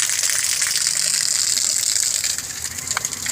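Cold spring water from a small rock spring high on a mountain gushes down over stone in a loud, steady, close rush of hissing water, with no voices.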